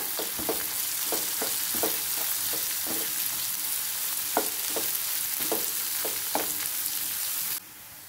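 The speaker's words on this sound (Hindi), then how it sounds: "कांदो आमचो तळसून जाल्लो आसा।" Chopped onions with green chillies sizzle in hot oil in a pan for Goan potato bhaji, a steady frying hiss broken by repeated soft stirring scrapes, close and continuous.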